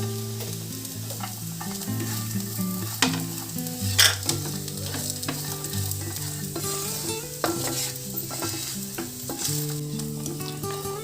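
Onion that has turned slightly red frying with dried coconut in a pan for a Maharashtrian prawn curry, a steady close sizzle under frequent spoon stirring and scraping with a few sharper knocks, no voices.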